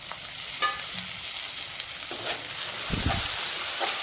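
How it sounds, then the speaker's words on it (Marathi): Chopped tomato tossed into a pan of lightly browned onion for a ridge gourd vegetable dish, sizzling and frying steadily with a few scraping stirs and a louder clatter near the end, no talking. "आता मी त्यामध्ये बारीक चिरलेला टोमॅटो टाकते।"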